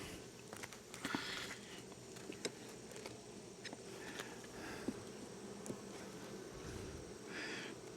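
Honeybees swarm around an open three-box hive of a strong, gentle colony full of nectar, making a continuous close buzzing hum with scattered light ticks and taps.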